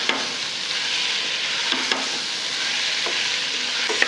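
Vegetables for spicy Marathi masale bhat sauté with turmeric, chilli and masala in a loud, steady frying hiss, with the scrape and clink of a spoon stirring at intervals.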